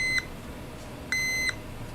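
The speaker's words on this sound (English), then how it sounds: "I'm checking resistance to ground on that. That's why you're hearing the beep." A multimeter gives two sharp, clear continuity beeps, each lasting about a fraction of a second with a short pause between, while a graphics card's power rail is checked for resistance to ground; a faint background hum runs underneath.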